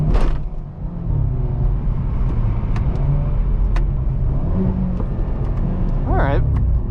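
Hyundai Veloster N with a DCT gearbox being driven and shifted with the paddles, its engine a steady loud rumble with road and cabin noise, plus brief clicks and a short rising whine near the end.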